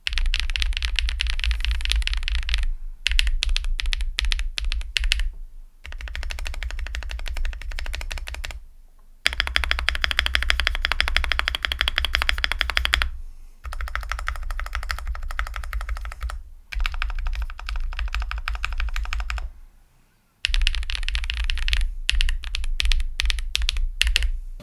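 Typing on an MXRSKEY CK650 aluminium mechanical keyboard with stock stabilizers gives dense, close clacking keystrokes in quick runs, broken by several short pauses, with no talking.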